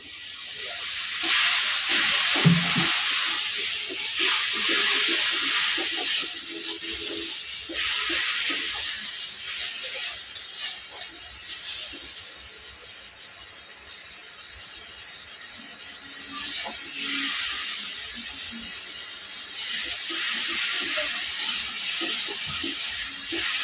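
Water poured into a hot pan while cooking spices sets off a steady hissing sizzle that runs throughout, swelling and easing in places.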